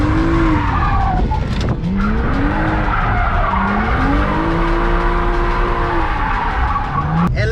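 A BMW 135i on new tires drifts in a controlled track area, sending out several long, loud tire squeals that rise and fall between surges of engine noise.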